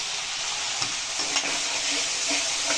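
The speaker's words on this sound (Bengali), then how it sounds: "এখন আমি এই পেস্টটা এর মধ্যে দিয়ে দেবো।" A spice paste of ginger, cumin, coriander, chili, Kashmiri chili and turmeric drops into hot oil in a pan for a Bengali cauliflower-and-prawn dish, producing a loud, continuous close-up sizzle with faint stirring.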